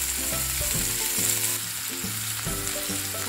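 Broccoli, carrots and other vegetables are stir-fried on a high flame for veg hakka noodles, making a continuous sizzle under steady background music, with no talk.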